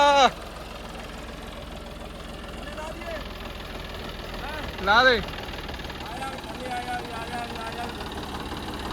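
A John Deere tractor engine idles with a low, steady rumble beneath close, loud talking, one short burst of voices standing out midway.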